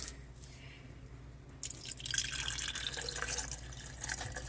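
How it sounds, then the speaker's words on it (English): Cranberry pineapple juice poured into a mason jar, a quiet liquid trickle that starts partway through and then runs on as a soft, continuous splashing stream. "I'm going to pour about half of this in my mason jar of juice."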